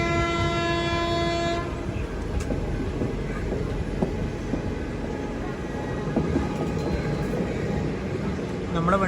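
The Kisan Express train on the Hisar-to-Delhi line, at Shakur Basti railway station, sounds a long horn blast. A continuous rumbling roar of the train and rail noise then fills the rest of the clip, close and steady.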